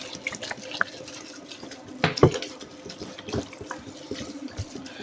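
Water streams from a tap into a cooking pot for Charsadda rice, a steady splashing pour with a few louder gushes partway through, heard close and without talk.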